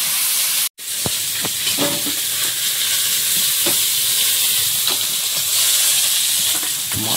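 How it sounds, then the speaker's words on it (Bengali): Fish, bought as a kilo of iced pond fish, sizzles steadily as it fries in hot oil in a home kitchen in the Sundarbans, a dense continuous crackle with brief pops, close and loud, without talk. "মাছ ভাজতে ভাজতে তো শেষ হচ্ছে না মাছ ভাজা"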